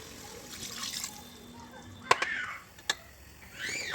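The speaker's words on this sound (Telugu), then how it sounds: "కొంచెం వాటర్ పోస్తున్నాను" A little water is poured into biryani masala with coriander for chicken leg pieces, giving a faint, soft trickle with a couple of sharp clinks against the pot, quiet and close.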